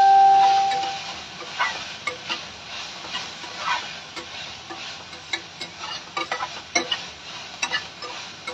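Squash and other vegetables sizzling loudly in a pan over a high flame, with a steady hiss broken by frequent clattering stirs of a spoon, close up and with no talking.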